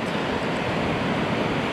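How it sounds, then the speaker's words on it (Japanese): Ocean waves roll and wash in a constant broadband rush at a surf contest, steady and moderately loud with no voices. "うわ、いい波ですね。"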